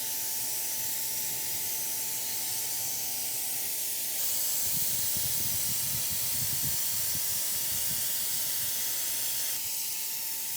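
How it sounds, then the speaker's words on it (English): A paint sprayer applies leftover interior house paint to wooden built-in cabinets, giving a steady hiss that grows louder and fuller partway through. "So this paint I'm spraying is left over from when we repainted the inside of our house and our kitchen cabinets"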